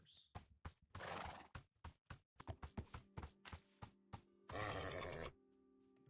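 Horses neigh in Minecraft Bedrock Edition: a long whinny near the start and another loud, drawn-out one near the end, with short clopping and snorting bursts between them, all close and clear.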